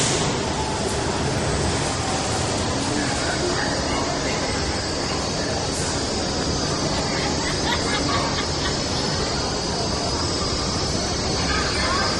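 Washington Metro yellow line train carrying passengers toward downtown, a steady loud roar of wheels and car rumble with faint squeal, continuous throughout from inside the car, with indistinct voices mixed in.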